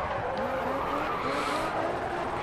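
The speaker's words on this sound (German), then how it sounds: "Und schön die Kiste hier quer durchgeworfen durch die Kurve." Car in GRID Autosport, a tuner-series race, sliding sideways through a curve with a steady tire squeal over a droning engine, continuous and fairly loud throughout.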